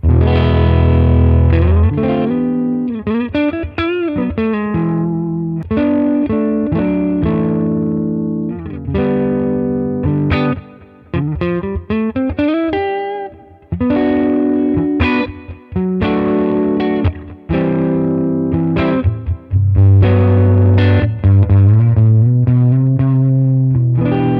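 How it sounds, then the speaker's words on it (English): Electric guitar on its humbucker neck pickup through an AmpliTube 5 amp simulation, thick and driven with chorus-like shimmer, playing a long stretch of sustained chords and fast melodic runs with brief gaps, loud and up front. "Let's go to humbucker sound and see what happens."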